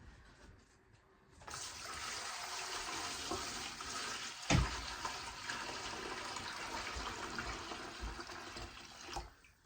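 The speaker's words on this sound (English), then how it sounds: "I want to drain. Oh my goodness, that's a lot of broth." Broth pours steadily out of a big stock pot of chicken stock and ham broth in a home kitchen, a continuous close splashing rush lasting several seconds with a brief louder clunk midway.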